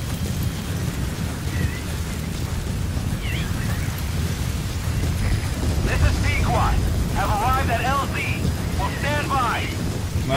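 Howling sandstorm in Metal Gear Solid V: The Phantom Pain, a dense, steady roar of wind and blowing grit with low rumbling, joined by scattered chirping tones in the second half, loud and continuous.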